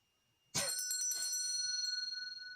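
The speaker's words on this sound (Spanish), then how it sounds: "esta campanita que no suena bastante" A small hand bell rings once sharply close by during a stage play, its bright metallic tone ringing on and slowly fading with a shimmering wobble.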